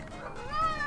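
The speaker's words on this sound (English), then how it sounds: "Hello, cat." A cat named Oreo gives one drawn-out, fairly faint meow that rises toward the end, under a low background hum.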